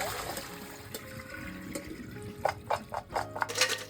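Salted edamame rinsed under running water in a kitchen, a steady faint stream with splashy bursts toward the end as the pods are stirred.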